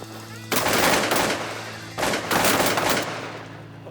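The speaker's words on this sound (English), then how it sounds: "I was able to shoot the new Winchester Pump SXP." Two loud, close pump-shotgun blasts from a Winchester SXP during a waterfowl hunt in Saskatchewan, Canada, about a second and a half apart, each with a long rolling tail across open ground.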